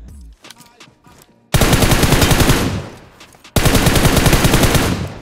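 Automatic gunfire in the mobile battle-royale game BGMI (PUBG Mobile), two long, loud rapid-fire bursts that follow a quieter stretch of game sounds, with a brief lull between them.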